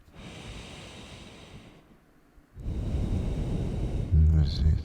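Slow breaths drawn in and pushed out during a yoga session, a softer exhale trailing into a brief pause before a louder, closer breath with a snort-like burst at the end.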